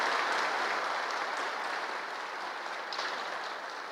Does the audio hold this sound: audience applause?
yes